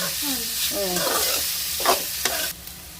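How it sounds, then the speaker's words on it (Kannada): Bitter gourd sizzles steadily in a little oil in a pan for a North Karnataka palya while a spoon scrapes and stirs it in close, repeated strokes, with a voice briefly heard at the start. "ಒಂದು ಹುರ್ಕೊಳಕ್ಕೆ ಅರ್ಧ ಚಮಚ ಎಣ್ಣೆ ಹಾಕೊಂಡಿದ್ದೆ ಚಂದಾಗ ಹುರಿಬೇಕು"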